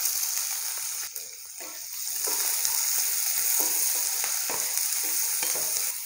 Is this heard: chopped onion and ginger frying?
yes